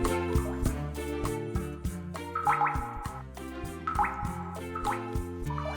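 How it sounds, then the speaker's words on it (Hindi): Water dripping slowly from a kitchen tap at night, soft repeated drips heard faintly under a music track with piano. "नलके से टपकते पानी की वो मध्यम आवाज, टप टप"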